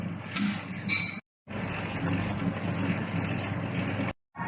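A steady mechanical rumble and whir of a dough mixer running at slow speed on sourdough, continuous and fairly loud, broken by two brief gaps of silence.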